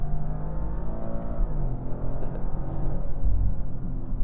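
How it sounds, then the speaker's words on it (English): A 2025 Toyota GR Corolla with an automatic transmission revs up and down as it shifts gears, its engine tone rising and falling in close, continuous drones with no talking. "you could hear me just I'm just playing back and forth with these gears"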